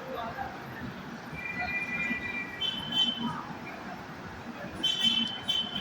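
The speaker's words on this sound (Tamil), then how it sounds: "இது Chennai Coimbatore Shatabdi super fast express. So இந்த ட்ரெயின் டிபார்ட் ஆகிடுச்சு." The Chennai–Coimbatore Shatabdi Superfast Express pulls out of the station as a faint, distant rumble, with thin metallic wheel squeals rising intermittently over the low background.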